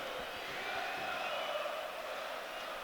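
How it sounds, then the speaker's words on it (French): A football stadium crowd whistles at a substitute player, a sustained blend of shrill whistling and general crowd noise at a distance. "Quelques sifflets."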